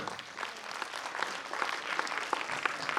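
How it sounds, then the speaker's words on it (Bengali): Applause from the audience at a school annual cultural programme, dense and steady clapping from a crowd that holds at an even level for the whole stretch. "সকলের জন্য একটু জোরে হাততালি হোক"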